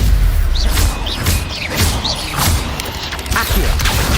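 Stupefy stunning spell cast in the Hogwarts Legacy video game, a dense run of magical whooshes and impact thumps layered over steady game ambience, with several quick swishing bursts in succession.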